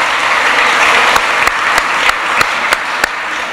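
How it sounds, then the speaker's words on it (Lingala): Audience applause fills a French stage event, a loud, steady roar of clapping from a large crowd with a few sharper individual claps standing out at regular intervals. "Il mérite effectivement vos applaudissements."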